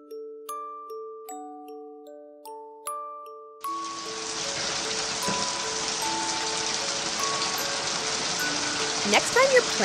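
Steady rain patters down continuously after a short, bright chiming tune, with faint melodic notes still ringing over the wash of falling drops.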